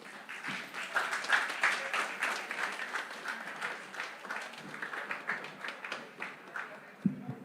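Audience at the Grenada Union of Teachers' 62nd annual conference bursts into brisk, steady applause, many hands clapping together in a moderately distant hall with a faint voice near the end.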